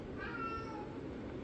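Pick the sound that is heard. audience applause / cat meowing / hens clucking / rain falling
cat meowing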